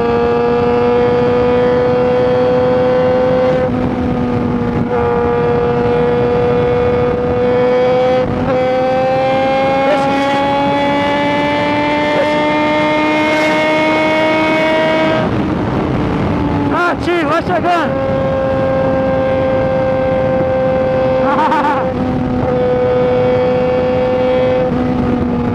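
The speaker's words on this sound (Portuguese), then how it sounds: "Paulozinho quer apostar a corrida da XJ" Yamaha XJ6 motorcycles race along a street, engines holding a loud, steady high-revving drone that climbs gradually in pitch, with a roaring burst midway, close and dominant over occasional shouting.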